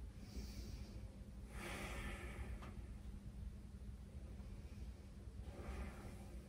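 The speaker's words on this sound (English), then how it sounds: "Take a few cleansing breaths here." Two slow, deep cleansing breaths taken in yoga child's pose, each a soft, airy rush of exhaled air, faint and close against a quiet room hiss.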